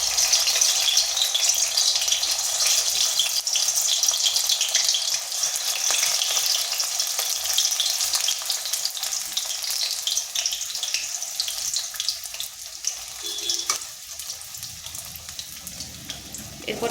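Fenugreek leaf vadas fry in a little oil in a wok over slow to medium heat, giving a steady, close hiss of sizzling that stays even throughout with faint clinks near the end.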